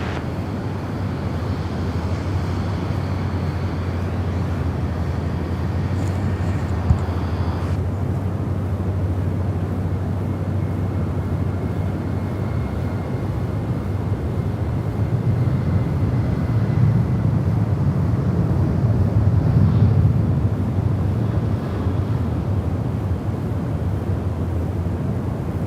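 A Jetstar airliner lands on runway 16 right at Sydney Airport as a steady, distant jet roar mixed with wind noise. The rumble swells somewhat toward the end, and nobody speaks.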